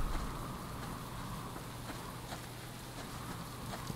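Steady rain patters in the survival game Subsistence, a constant dense hiss with a low rumble beneath and no voices.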